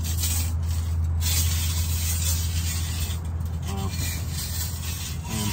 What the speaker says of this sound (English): I'm probably scraping the hell out of this.